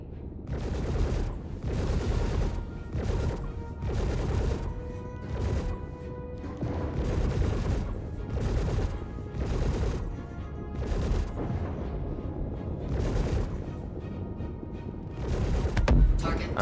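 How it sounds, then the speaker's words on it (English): Repeated loud blasts and bursts of gunfire in a game, heavy booms and crackling volleys arriving every second or so in an intense, ongoing barrage. "the explosions now are insane"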